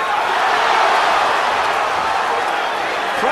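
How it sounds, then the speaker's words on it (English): Steady, loud roar of a boxing arena crowd during the Diego Corrales vs. José Luis Castillo fight, a continuous dense wash of voices reacting to the exchanges with no break across the moment. "Crowd reacting on every throw."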